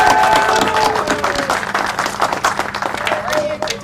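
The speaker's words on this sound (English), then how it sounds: "let's do a collective round of applause on a Monday" A crowd at a groundbreaking ceremony in Albuquerque claps continuously in a dense, lively round of applause, fairly close and loud throughout.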